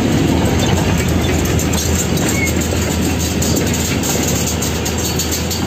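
A goods train with only a few wagons rolls past on a restored railway line in Dima Hasao, making a loud, steady, close rumble with clickety-clack wheel noise throughout.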